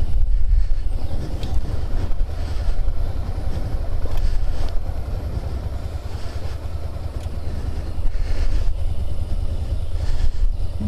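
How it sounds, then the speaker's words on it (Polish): A steady motorcycle engine drones continuously on a training lot, low and rumbling with some wind buffeting, running evenly throughout without pauses. "Silnik zaczyna pracować bardziej równomiernie."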